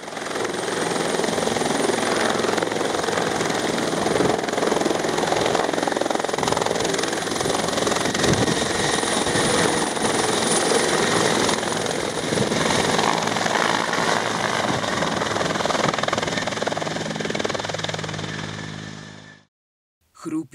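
Helicopter landing close by, a loud, steady rotor and turbine roar filling the whole stretch before cutting off abruptly near the end.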